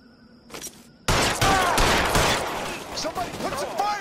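Rapid bursts of gunfire crackle through a firefight, loud and close, starting abruptly and continuing in dense overlapping volleys with shouting mixed in.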